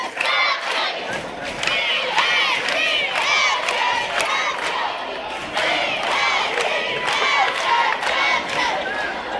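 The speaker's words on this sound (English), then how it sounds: "the crowds just back and forth, just nonstop. Student sections just feeling it." Basketball crowd at a high school regional championship game, student sections roaring and shouting nonstop, a dense, loud wall of yelling voices swelling and surging throughout.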